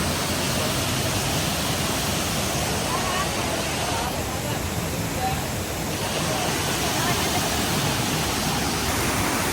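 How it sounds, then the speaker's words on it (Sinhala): Ravana Falls in Sri Lanka pours down over rock in a loud, continuous roar of falling water that fills the whole scene at close range, unbroken from start to finish. "උඩ ඉඳන් ලස්සනට මේ වගේ වතුර ගලාගෙන එනවා"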